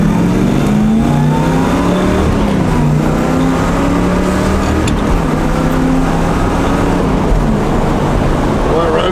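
A 1963 mid-year Chevrolet Corvette engine revs hard and accelerates, loud and close, its pitch climbing and dropping through gear shifts, with a voice talking over it.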